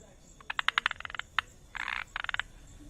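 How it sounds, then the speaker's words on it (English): A Malabar gliding frog calls with rapid clicking, tapping pulses, followed by a couple of buzzier rattling bursts, fairly close against a quiet background without talking. "the Malabar gliding frog can be recognized by its unique call"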